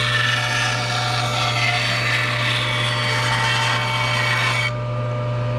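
A saw cutting freehand through a wooden cutting board, trimming off excess, gives a steady close grinding rasp that runs without pause, then cuts off abruptly near the end.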